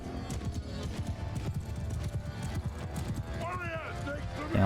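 Horse hooves in the Mount & Blade II: Bannerlord video game clop in a dense, rapid stream of galloping beats, close and steady over battle noise, with a rising whinny-like cry near the end.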